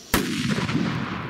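A Dum Bum 5G firecracker blows up inside a crate of apples: one sudden, loud, close blast, then a rumbling decay with scattered debris noise.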